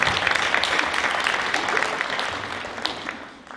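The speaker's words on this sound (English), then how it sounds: "give them a round of applause" An audience claps for high school Hall of Fame inductees at an induction ceremony, with dense applause that gradually thins and fades toward the end.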